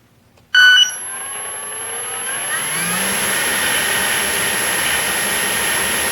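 A Park Zone 480 electric motor spinning an APC 10x7 three-blade prop on a load-test bench starts abruptly at quarter throttle with a sharp whirr, then settles into a steady, close, high-pitched whine.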